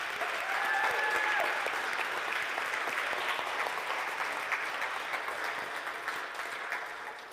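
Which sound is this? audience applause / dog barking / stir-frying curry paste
audience applause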